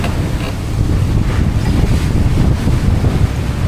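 Rough open sea off Surigao buffets a small boat, with loud gusting wind battering the microphone and waves surging and crashing in a dense, continuous roar.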